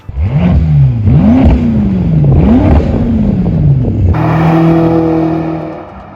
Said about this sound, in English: The rumble of the V8.